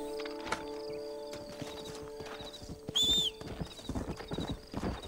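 Horse hooves clip-clop in the Red Dead Redemption video game, a steady trot alongside a brief whinny and game effects, with sustained musical tones running underneath.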